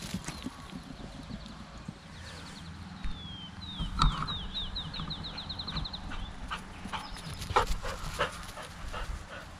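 A dog races off to fetch on a rural property, quick patter of paws and panting close by, with bird chirps and rustling in the background and no talk.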